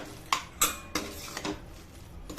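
A spoon stirs paneer biryani gravy with crushed cashews in a pot, making a handful of sharp metallic clinks and scrapes spaced irregularly, close and fairly clear over a quiet background.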